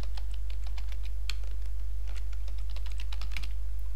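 Fast, steady keystrokes on a computer keyboard as a password is typed in, crisp close-up taps in an irregular run with no voices.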